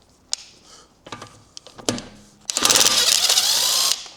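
Milwaukee impact gun set to its lowest power setting of 100 Nm, hammering in a single steady rattling burst of about one and a half seconds after a few scattered clanks and knocks nearby.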